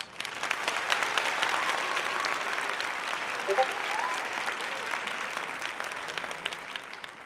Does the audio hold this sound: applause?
yes